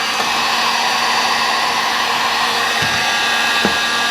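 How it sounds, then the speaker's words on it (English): Heat gun shrinking heat shrink tubing, a steady loud blowing whir with airy hiss that runs unbroken throughout, with a couple of faint knocks near the end. "So using a heat gun, just to give it a little bit."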